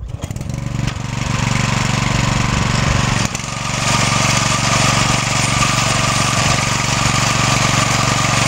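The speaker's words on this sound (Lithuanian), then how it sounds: "Užkuriam variklį ir drapakuojam." A NEVA walk-behind tractor engine running loud and close while harrowing soil in a field, a steady chugging drone after a brief uneven start, continuing without letup.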